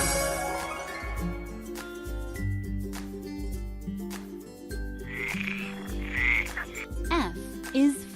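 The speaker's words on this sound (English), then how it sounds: "F is for frog." A frog croaks in a playful, cartoonish way, with several croaks scattered over bouncy children's music and chimes.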